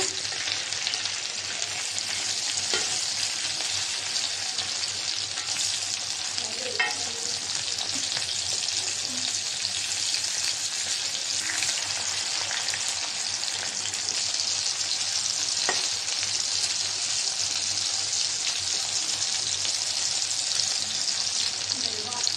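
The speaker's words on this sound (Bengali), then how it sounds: "মাংসটা এখন আমি উল্টাই দিব।" Chicken pieces frying with potatoes in a pan for a chicken bhuna, turned over with a loud, continuous sizzle that holds steady throughout, with a few faint clinks of a utensil and no talk.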